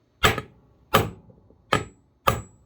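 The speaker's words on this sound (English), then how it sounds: "Very vertical on the punch, straight down with the hammer." A hammer strikes a punch in four sharp, evenly spaced metallic blows with short ringing decays during maintenance on Hi Power and 1911 pistols, heard close up with no talking.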